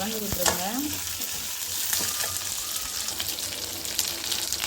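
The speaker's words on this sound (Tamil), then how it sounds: "சீரகம் பொரிஞ்சோடனே வெங்காயம் போட்டுருங்க. வெங்காயம் சேர்த்தோடனே இது கலந்து விட்டுருங்க." Onions fry in hot oil with cumin and chana dal for kara chutney, giving a constant close sizzle with scraping stirring strokes throughout.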